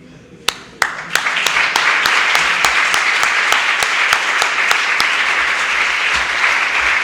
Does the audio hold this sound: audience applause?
yes